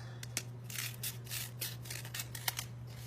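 Scissors snip repeatedly through folded paper, trimming the edges off a six-pointed paper snowflake; a steady run of crisp, close cuts with paper rustling between them, over a faint electrical hum.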